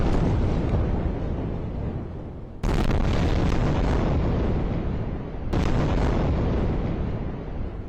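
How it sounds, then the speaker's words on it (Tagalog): Heavy explosions thunder across Gaza City, three broadband blasts with long rolling echoes that fill the whole stretch, loud and close enough to dominate, with no voices. "Malalakas na pagsabog ang umaalingaw-ngaw."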